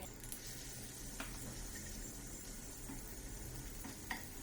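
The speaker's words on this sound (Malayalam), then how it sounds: "പാൻ നന്നായിട്ട് ചൂടായി കഴിയുമ്പോൾ അൺസോൾട്ടഡ് ബട്ടർ 2 ടേബിൾ സ്പൂണോളം ചേർത്താം" Unsalted butter melting in a hot pan, giving a soft, steady sizzle with faint crackles and a few small clinks, close and continuous with no voices.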